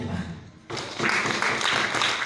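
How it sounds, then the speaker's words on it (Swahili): A church congregation breaks into applause after a short stretch of speaking, a dense burst of many hands clapping that carries on steadily to the end. "Pigeni tafadhali makofi."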